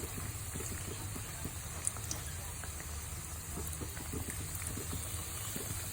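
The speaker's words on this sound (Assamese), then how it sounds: "ৰঙচুৱা হোৱাকৈ কম জুইত গোটেইখিনি মই ভাজি লওঁ।" Goja frying in a pan on low heat gives a quiet, steady bubbling hiss with faint crackles, continuous and close, with no voices.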